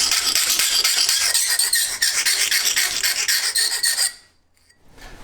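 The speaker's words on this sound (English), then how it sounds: "I'll just deburr this a little bit with a file." A hand file rasps back and forth over a welded metal patch on a BMW E30 car underbody, giving loud, rapid, rhythmic scraping strokes that stop abruptly near the end.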